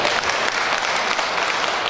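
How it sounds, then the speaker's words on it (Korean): A crowd at a Korean provincial governor campaign event claps steadily, a dense, continuous burst of applause filling the whole moment. "네, 큰 박수 부탁드리겠습니다."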